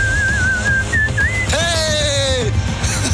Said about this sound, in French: Ah, ça sifflote. Écoutez.